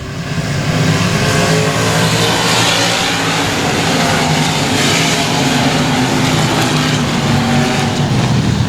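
Race cars at Shady Oaks Speedway pick up the throttle together on a green-flag restart, a dense, loud, continuous roar of engines accelerating as the field runs nose to tail.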